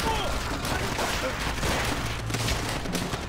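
Sustained gunfire from above in Call of Duty: World at War: dense, overlapping rifle and machine-gun volleys crackle without pause, loud and continuous throughout.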